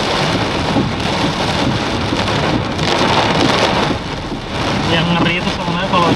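Heavy rain pours down steadily during a thunderstorm, a dense, loud hiss that fills the whole span without letting up, with faint rumbling mixed in beneath it.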